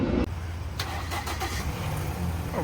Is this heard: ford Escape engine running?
yes